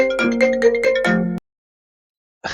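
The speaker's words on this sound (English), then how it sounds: "And guess who just got a phone call?" A phone ringtone plays a short bright melodic phrase of several rapid notes, then cuts off into silence before starting again briefly at the end.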